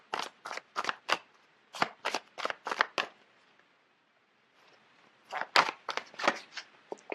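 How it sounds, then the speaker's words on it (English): Tarot cards being shuffled in quick bursts of crisp riffling snaps, about ten sharp flutters, then a short pause and another cluster of riffles, close and clear with no talking. "So let me just pull out a card."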